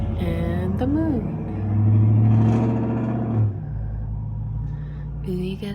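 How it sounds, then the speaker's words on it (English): A car engine roars loudly, swelling as it revs and passes close by, mixed with a child's toy-like voice and background chatter. "you got a fast car with a very loud engine"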